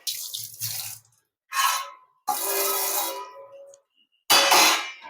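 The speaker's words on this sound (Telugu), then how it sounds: "ఇలా బాగా కలిపి కొంచెం వాటర్ వేసుకుంటే అయిపోయినట్లేదు" Water is poured from a tap-like stream into an onion mixture while paneer biryani cooks, in four separate splashing bursts with short silent gaps between them.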